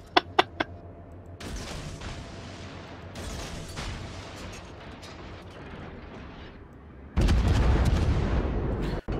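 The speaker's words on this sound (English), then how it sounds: "They're just bouncing shots up from me left and right." Heavy gunfire from a warship battle game featuring the Myoko, with incoming shells striking the ship: a few sharp cracks, then rumbling booms of mid loudness and a loud, sustained blast near the end.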